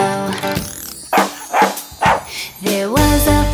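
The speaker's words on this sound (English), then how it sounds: "There was a farmer who had a dog, and Bingo was his name, oh." Cartoon dog barking in a children's nursery rhyme song, several loud, bright yips and barks in quick succession over a musical backing.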